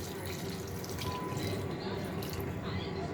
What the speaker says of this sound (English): Now we're adding some water